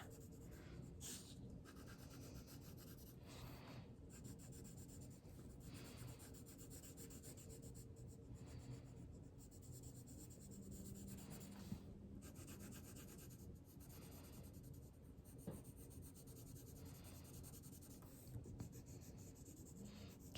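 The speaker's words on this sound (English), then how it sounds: "Sometimes you'll notice I use the side of my color pencil." Colored pencil worked on its side across paper, a soft continuous rubbing and scratching that runs steadily and faintly with small pauses, close up and with no talk.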